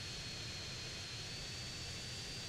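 In GTA San Andreas an aircraft engine roars without a break, a close, loud, even rumble filling the whole stretch with no talking.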